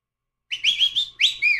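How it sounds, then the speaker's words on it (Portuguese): Someone whistles a short burst of several quick, bright, rising and falling notes. It lasts about a second, follows a moment of silence, and has no talking over it. "Se sim, dá um assobio."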